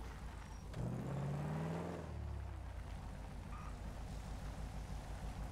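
A police car engine in GTA V idles with a low rumble, swelling into a brief rev for about a second, then settling back to a steady hum.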